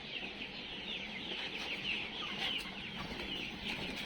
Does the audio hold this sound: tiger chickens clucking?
yes